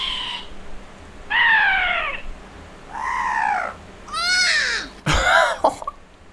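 Cartoonish bird squawks and caws from an Angry Birds style game built in Godot 4, four or five separate loud calls with short gaps, the last one harsh and explosive, heard alone.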